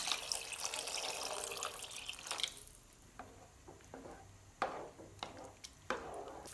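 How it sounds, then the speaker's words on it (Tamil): Water from a tap pours into a pan in a kitchen for Maggi vegetable noodles, a broad rushing flow for a couple of seconds, then stops, leaving scattered drips and light clinks. "இதுக்கு தேவையான அளவுக்கு தண்ணி விட்டுக்கலாம்."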